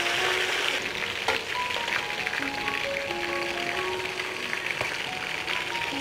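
Chicken pieces shallow-frying in hot oil for a Bangladeshi wedding-style roast, a steady, close crackling sizzle with occasional spatters and light utensil taps, no speech.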